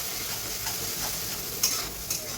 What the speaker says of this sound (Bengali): আমার বাটার মেল্ট হয়ে গেছে। আমি এখন পেঁয়াজ পেস্টটা দেবো।